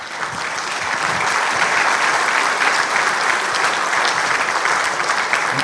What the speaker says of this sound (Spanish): a quien pedimos un fuerte aplauso